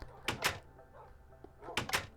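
A heavy door in a prison tower inside a multiplayer video game, heard as two quick thunking bursts close together, a quieter stretch, then another pair of loud thuds.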